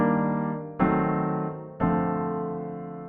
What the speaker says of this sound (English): So let's hear the progression one more time using tertian voicings.